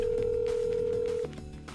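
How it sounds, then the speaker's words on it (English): A phone call rings out through a handset as a single steady electronic ringback tone for just over a second, then cuts off as the call connects, with faint room background afterward. "Alright, let's just call Colby right now."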